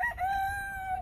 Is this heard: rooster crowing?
yes